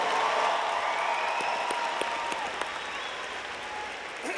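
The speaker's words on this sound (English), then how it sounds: "How about another round of applause for the Lowell High School Show Choir?" Graduation ceremony crowd applauding a high school show choir, a broad steady round of clapping with a few sharper individual claps standing out, sustained and gradually thinning toward the end.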